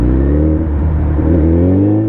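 Suzuki Hayabusa Gen-2 motorcycle accelerating, a loud, close engine drone with a steady low rumble and a smooth rising pitch held throughout.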